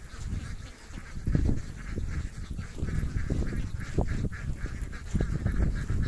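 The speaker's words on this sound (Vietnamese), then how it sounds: "Nói chung là khu vực ở đây là người ta nuôi vịt không các bạn." Many ducks quack and honk together at a large duck farm in remote Vietnamese countryside, a dense, continuous chorus close by with overlapping calls throughout.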